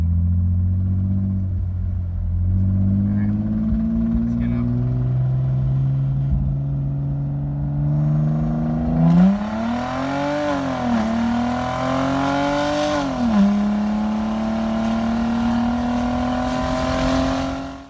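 Mercedes-Benz SLK320, hot, fitted with a new intake, throttle body and exhaust, on a pull: the engine idles, steps up through gears, then rises in a long, loud, climbing roar with brief dips between shifts.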